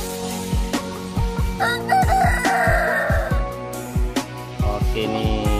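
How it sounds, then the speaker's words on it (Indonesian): Chickens, including a rooster, crow and cluck at a farm with several birds in a busy flock; a rhythmic low thumping runs underneath, and calls overlap near and loud without any talk. "ini jantan ayam ras saya ya"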